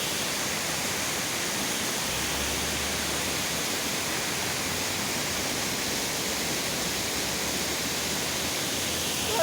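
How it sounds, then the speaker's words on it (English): Rain-swollen mountain stream water in the Black Forest in autumn rushes in a loud, continuous, even roar with no pauses and no voices. "So this is the running water here. This is from the mountain."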